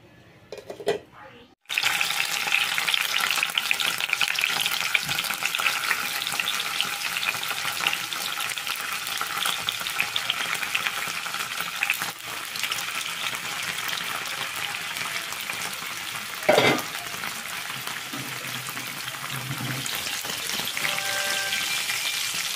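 Paneer fries in a pan in a home kitchen while it is stirred. After a quiet opening, a loud, steady sizzle fills the rest, broken by a few scraping stirs and clinks.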